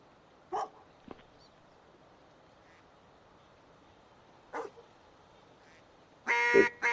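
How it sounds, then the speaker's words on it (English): A hunting dog barks in a duck hunting video game, a few short, sharp barks and calls spaced apart over a quiet background, ending in a louder burst. "Good dog."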